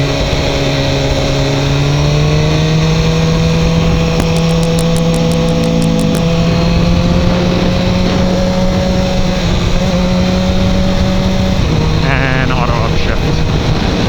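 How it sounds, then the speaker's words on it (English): A BMW S1000R motorcycle engine drones loudly and steadily while riding. Its tone steps down and then back up as the bike shifts without the clutch, with a dense rushing noise underneath throughout. "So I just downshifted and upshifted, no clutch, and it's beautiful."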